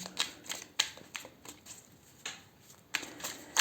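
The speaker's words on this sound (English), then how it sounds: "I'm just gonna give them a little extra shuffle." A deck of tarot cards being shuffled by hand, slightly sticky, giving a string of soft, close riffling and tapping bursts at an irregular rhythm with brief pauses between them.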